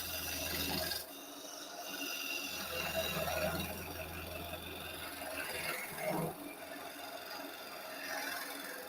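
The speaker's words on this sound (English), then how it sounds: "slowly doing a cut towards the centre. And that's going to give me nice long, nice long shavings coming off." A woodturning tool cuts slowly toward the centre of a spinning piece on a lathe, throwing long shavings with a steady raspy scraping over the motor hum, continuous and moderately loud.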